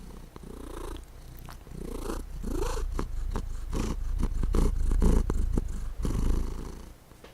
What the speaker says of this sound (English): Hope you heard him purr.